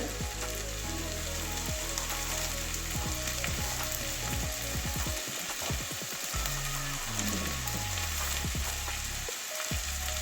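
Potatoes, carrots and spring onions frying in a pan, sizzling loudly and steadily while a utensil stirs them with occasional scraping and clinking.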